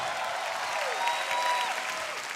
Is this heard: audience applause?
yes